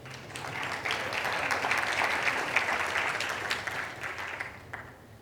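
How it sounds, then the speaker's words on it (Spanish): Audience applause for a panelist at a financial-sector conference panel on open finance and insurance, a steady, dense clapping that holds for about five seconds before tapering off at the end. "Un aplauso para ella."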